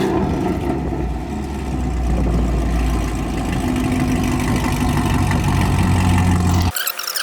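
A Camaro's engine runs close and loud, holding a steady idle-to-rev drone for several seconds as the car pulls away, then the sound cuts off abruptly near the end.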